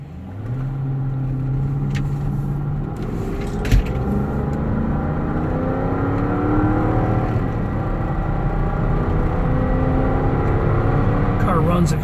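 A 2008 Porsche Cayenne Turbo engine idles steadily throughout, a continuous low rumble with a faint whir, while a person talks over it.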